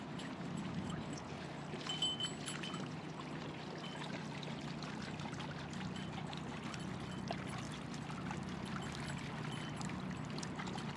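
Water from a plankton tow net sample, taken for quagga and zebra mussel monitoring, is swirled and poured out, giving a steady soft splashing trickle over faint outdoor background noise, close and continuous.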